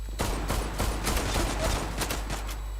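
Dense gunfire from a Turkish-made shooter video game, with rapid overlapping shots and bursts rattling steadily through the whole stretch at a loud, constant level.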